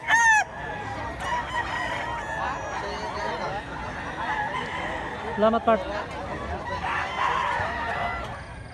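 A backyard rooster crows several times, with one loud call at the start and more calls mid-clip, while people talk nearby.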